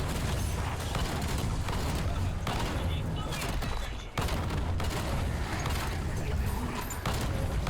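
Dense, rapid gunfire from an A.R.C M1 assault rifle in a zombies video game, sustained bursts mixed with game effects and a speaking voice over the top.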